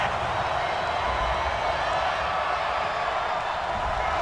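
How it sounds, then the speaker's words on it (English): A stadium crowd in Madden NFL boos a roughing-the-passer penalty call, a steady, dense, unbroken roar that holds at an even level throughout. "this crowd does not like that call"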